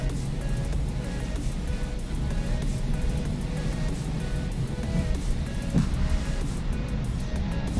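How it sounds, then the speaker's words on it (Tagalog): Traffic on EDSA after rain, a steady broad rumble of vehicles on wet road heard from a ride, with no distinct individual passes. "Traffic talaga ang EDSA."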